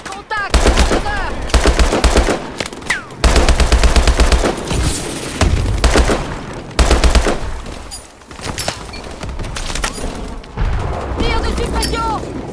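Rapid machine gun bursts and other gunfire crackle loudly in a Call of Duty: Advanced Warfare battle, with heavy low booms and shouted French dialogue throughout.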